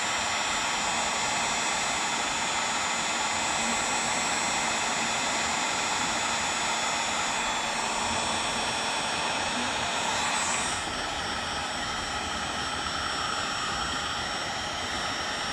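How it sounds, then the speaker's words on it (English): A heat gun shrinks heat-shrink tubing over wire terminals, its fan and heater producing a steady, loud, close whooshing roar that runs unbroken for about fifteen seconds with no speech. "And here we go, heat gun and shrinkage."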